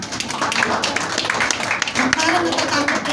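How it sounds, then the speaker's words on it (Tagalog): A congregation gives a loud round of clapping, close and busy hand claps mixed with murmuring voices throughout. "Isang malakas na palakpak."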